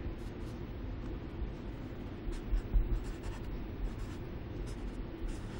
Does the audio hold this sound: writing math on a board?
yes